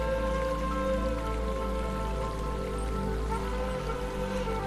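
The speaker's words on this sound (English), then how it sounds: "The rain keeps falling." Steady rain falls in a continuous, even wash of hiss and patter, moderately soft, with a low sustained tonal drone beneath it and no voices.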